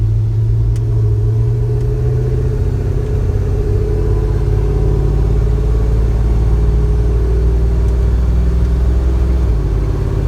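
A 1976 Jeep J10 pickup on US 1 near Youngsville, North Carolina, heard from the cab as a loud, steady low engine drone and road rumble, its pitch easing slightly as it moves onto the highway.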